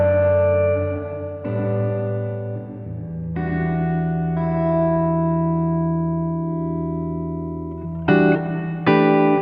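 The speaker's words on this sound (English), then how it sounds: "there's no sound of the guitar anymore" Alabs Cetus reverb pedal set fully wet with the dry guitar removed, leaving only smooth, swelling reverb tails that drift between chords for several seconds, with two brighter attacks near the end.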